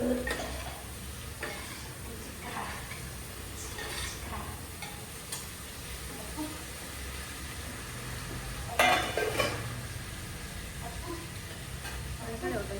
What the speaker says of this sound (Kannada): ಈರುಳ್ಳಿ ಚೆನ್ನಾಗಿ ರೋಸ್ಟ್ ಆದಮೇಲೆ ಟೊಮೊಟೊ ಹಾಕ್ಬಿಟ್ಟು ರೋಸ್ಟ್ ಮಾಡಬೇಕು